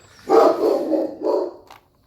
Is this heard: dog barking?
yes